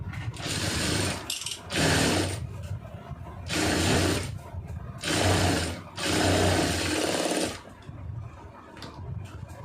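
A sewing machine runs in several bursts of steady whirring, stitching a blouse lining, each run lasting a second or two with short pauses between them, loud and close.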